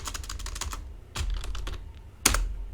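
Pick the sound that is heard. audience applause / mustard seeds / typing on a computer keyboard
typing on a computer keyboard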